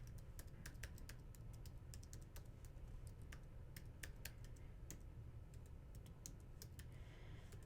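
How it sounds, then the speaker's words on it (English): Keys tap on a computer keyboard as letters are typed, a quiet, uneven run of crisp clicks over a low background hum. "we're going to type all the letters A,"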